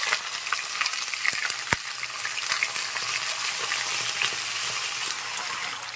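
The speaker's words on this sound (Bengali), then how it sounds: "আদার পেস্টটাকে দিয়ে নেড়ে চেড়ে নিয়েছি" Ginger paste fries in a pan with a bright, dense sizzle, broken by scraping stirs and one sharp knock of the spoon against the pan, close and continuous.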